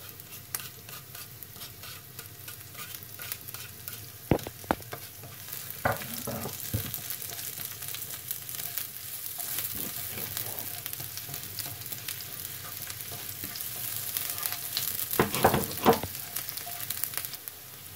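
Shallots, garlic and pork sizzling and frying in a pan for sautéed salted turnips, with occasional stirring clatter and scrapes over a steady moderate sizzle, no voices.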